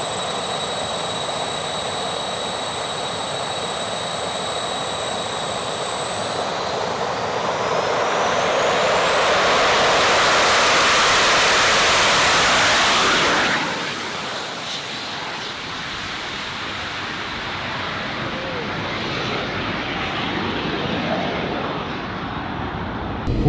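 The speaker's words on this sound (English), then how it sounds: "Full jet power, launch mode enabled." Jet engines mounted on an electric car roar loudly and continuously, rising to a whining full-power peak, then dropping to a lower sustained rumble as the car launches.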